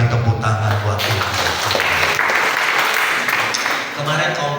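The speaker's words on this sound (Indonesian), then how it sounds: "Yang percaya kita berikan tepuk tangan buat Tuhan." Church congregation at a Sunday morning service applauding, loud, dense clapping from many people mixed with voices and sustained music underneath, continuing throughout.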